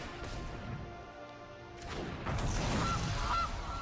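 Cartoonish goose honks from the Gilded Goose card being cast in the digital card game MTG Arena, two short, loud, nasal calls near the end over a dense bed of game music and effects.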